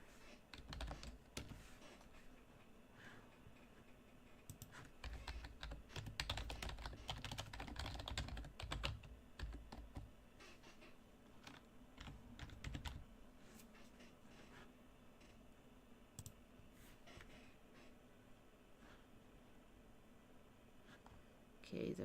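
Someone types on a computer keyboard in quick, uneven runs of close clicks, busiest near the middle of the stretch, with faint talk now and then.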